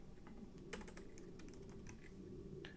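A computer keyboard clatters with quick, irregular key taps, faint and in bursts against a steady low hum, with no talk.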